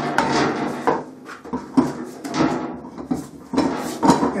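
A rear wheel going back onto a 2002 Honda VFR 800 VTEC motorcycle during a brake pad change: close scraping, knocking and metallic rubbing clatter in uneven bursts, with no speech.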